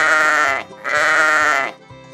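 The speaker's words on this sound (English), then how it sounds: "S-H-E-E-P. Sheep." Two long, loud, wavering sheep bleats come one after another with a short gap, then a faint trailing start of a third, close up with no talking.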